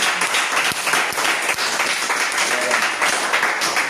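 Steady applause from a church congregation during a Sunday worship service, sustained and fairly loud throughout with a few sharper individual claps standing out, no voices over it.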